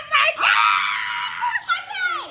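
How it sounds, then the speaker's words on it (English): Excited, high-pitched screaming fills the moment in a series of shrill, wavering shrieks with brief breaks between them, loud and close with no clear words. "I've been screaming this whole time, but we're just excited."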